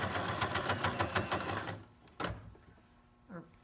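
A sewing machine top stitching sweatpants runs in a rapid rhythmic chatter for nearly two seconds, then stops, followed by a single clunk and faint handling sounds.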